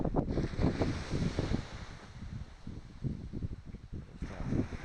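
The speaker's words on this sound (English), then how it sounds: "Apologise if it's getting windy." Low buffeting wind rumbles against the microphone in uneven gusts, with a faint background hiss.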